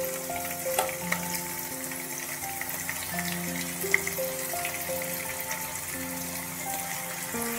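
Marinated paneer fries in a kadai over a low flame, giving a steady, soft sizzle throughout with occasional light stirring scrapes and faint metallic clinks close by.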